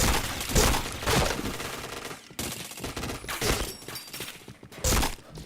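Bursts of rapid automatic gunfire in a shooter video game, loud and dense, with heavy repeated shots and impacts that continue almost without a break.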